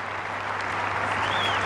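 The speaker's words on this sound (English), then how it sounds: "I guess everyone's starting to clap." Arena audience at the Athens 2004 Olympic Grand Prix Freestyle dressage applauding after a Danish rider's ride, a steady, distant wash of clapping that stays even and sustained.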